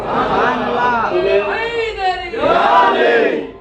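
A crowd at a Gyarvhi Sharif gathering in a Bangalore khanqah shouts the Naara-e-Haidari slogan in unison, a loud, close, sustained chorus of voices rising and falling over a few seconds.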